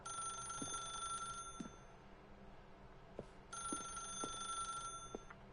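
An old-style telephone bell rings in the video game The Stanley Parable: two bursts of steady, bright ringing separated by a short pause, with soft clicks underneath.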